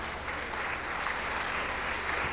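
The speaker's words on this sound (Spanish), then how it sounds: "Yo pensé que tú le ibas a dar un aplauso de gratitud a ese Dios" A church congregation applauds during a sermon, a steady, dense wash of clapping from many hands that continues without a break throughout.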